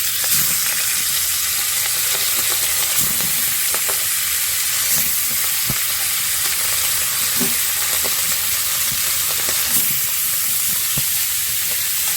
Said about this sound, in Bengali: এই মাছটা ভেজে তারপর হালকা মশলা দিয়ে শুকনো শুকনো করে রান্না করব